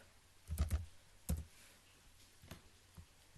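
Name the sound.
typing on a laptop keyboard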